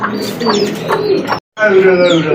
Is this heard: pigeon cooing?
yes